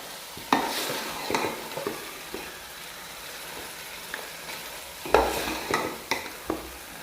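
Beef and potato mixture for aloo gosht being stirred in a cooking pot, with scattered scraping spoon strokes and clinks over a faint sizzle, clustered into two bursts of activity.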